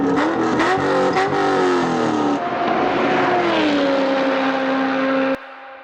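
A Chevrolet Corvette engine revs loudly close by, sharp rising blips giving way to a sustained climbing engine note that holds, then cuts off abruptly near the end.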